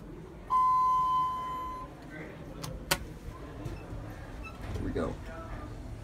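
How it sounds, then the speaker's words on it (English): A single sustained electronic bell tone from a Thyssenkrupp Signa4 elevator sounds for about a second and a half, followed by clicks, a sharp knock and background murmuring. "It's ringing the bell."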